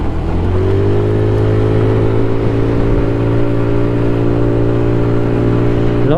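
A scooter engine revs up steadily as it accelerates toward top speed, its pitch holding in a strong sustained drone with stacked harmonics, loud and close throughout.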